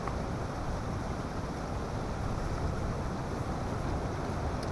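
Steady wind rushes at a camp in high cold winds and rain, a constant, even broadband roar with no talking over it.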